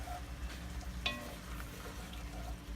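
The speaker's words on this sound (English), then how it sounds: "Give that a good stir." A spoon stirs cabbage soup in a pot with soft scraping and sloshing over a faint steady simmer, one sharper clink near the middle, quiet and close.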